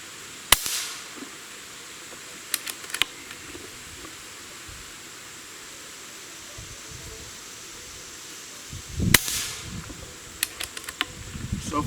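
Two sharp pneumatic cracks from an Umarex Origin .25 caliber PCP air rifle, several seconds apart, ring out over a low outdoor background, each trailed by faint clicks and handling noise.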